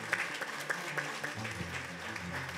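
Audience at the Miss NC 2020 pageant applauding a guest, a steady patter of clapping from a seated crowd at moderate level with a few sharper claps standing out.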